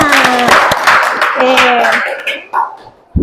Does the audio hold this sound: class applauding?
yes